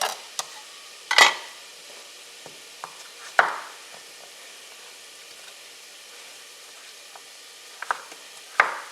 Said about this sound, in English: Now these need to saute for 4 or 5 minutes